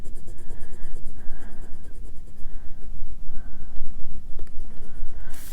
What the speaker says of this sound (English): It just doesn't want to erase properly.